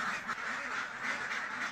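Dense flock of ducks quacking continuously inside an intensive indoor farm pen, many overlapping calls forming a steady, moderately loud din throughout.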